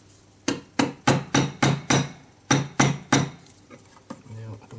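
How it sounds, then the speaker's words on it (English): A tension set wire ring tapped with a hammer on a ring mandrel, about eight sharp metallic knocks in two quick runs, close and clear, with a couple of lighter taps after. "Now I can probably just tap it up a little bit more on the mandrel."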